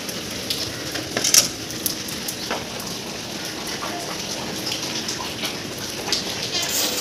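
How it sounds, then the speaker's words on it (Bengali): Rain falls outside a home as a steady, soft hiss of drops that runs evenly throughout with no clear breaks. "বাইরে না, বাইরে বৃষ্টি পড়ছে তো।"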